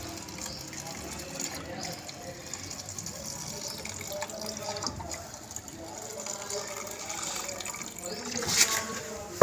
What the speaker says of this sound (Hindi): बाद हम इसमें डालेंगे थिनर